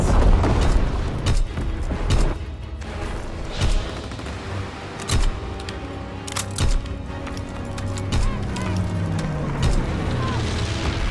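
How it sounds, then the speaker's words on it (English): Video game bomb blasts during a capture-the-flag match, several heavy booming impacts at irregular intervals over constant battle noise, with distant gunfire and in-game voices. "Enemy bomb incoming! Get to cover!"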